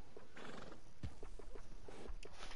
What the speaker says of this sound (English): Nothing better than a well-groomed horse.